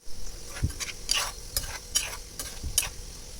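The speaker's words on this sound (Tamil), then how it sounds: "உங்களுக்கு வேர்க்கடலை நல்லா ஃப்ரை ஆகணும்" A ladle stirs masala-coated peanuts frying in a pan, making repeated scraping strokes about every half second over a steady sizzle, close and fairly loud, with no talking.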